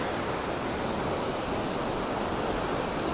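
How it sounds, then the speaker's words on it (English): Waves roll in and crash on the beach at Camp de Mar, Mallorca, on a windy day, a continuous loud wash of surf with wind noise and no voices. "watch and listen to the waves coming in and crashing against the beach"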